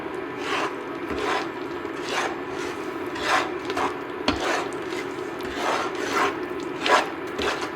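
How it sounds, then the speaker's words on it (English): Sugar being stirred into Karo syrup in a pot over warm heat for homemade caramel, a spoon rasping and scraping against the pot bottom in a steady rhythm of strokes, close and alone. "Just stirring it to combine so that the sugar can get mixed in with that karo syrup."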